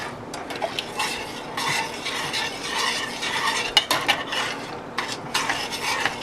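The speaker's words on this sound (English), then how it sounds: "Right now we're gonna have to mix it and make sure there's no lumps and no bumps" A utensil stirs blue jello mix in a bowl to break up lumps, giving a close, continuous swishing and scraping with sharp clinks against the side and no voices.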